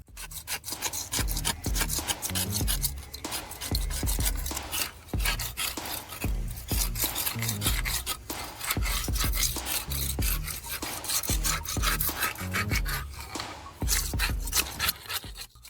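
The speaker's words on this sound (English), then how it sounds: "Use a wire brush to remove loose dust and weak material around the crack." Wire brush scrubbing cracked wall plaster to clear loose dust and weak material, a loud, close, continuous rasping rub in quick back-and-forth strokes with brief pauses.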